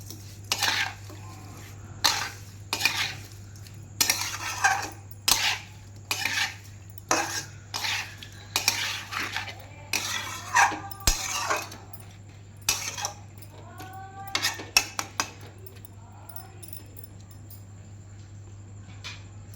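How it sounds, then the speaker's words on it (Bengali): Raw mango pieces being mixed by hand with spices in a bowl for kasundi, a run of wet scraping stirs and metal utensil clinks in irregular bursts, close, over a steady low hum. "এবার আমি আমটাকে ভালোভাবে মাখিয়ে নিচ্ছি।"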